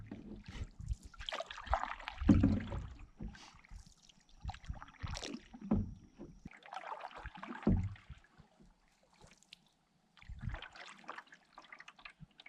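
A canoe paddle dips into a lake on an evening outing, making soft splashes and drips in irregular strokes with quiet gaps between them, close by and faint.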